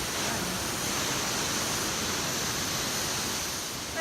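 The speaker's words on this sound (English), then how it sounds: "I can hear the waterfalls, the water, like this gushing sound of water" Gushing water from a waterfall in Ubud, Bali roars as a steady, dense broadband rush, fairly loud and unbroken with no voices.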